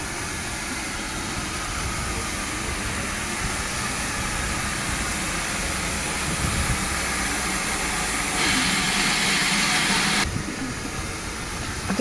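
A steam locomotive pulls into a railway platform at Tunbridge Wells with a loud, continuous hiss of steam and rumbling engine noise, swelling briefly near the end before easing off, with no talking.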